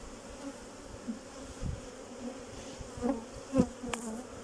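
Honeybees buzz steadily around an opened beehive during a hive inspection, a continuous close drone with occasional louder passes of individual bees near the microphone.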